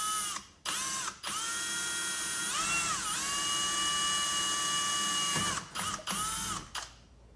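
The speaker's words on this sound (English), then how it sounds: "I'm just going to go ahead and drill the first hole out." A power drill whines at high pitch in long bursts, pitch dipping as it bites into a carbon fiber spoiler on a Dodge SRT4, stopping and restarting several times, close by.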